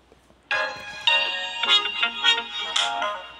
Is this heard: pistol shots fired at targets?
no